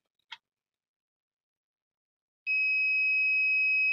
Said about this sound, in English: You see, this one is beeping.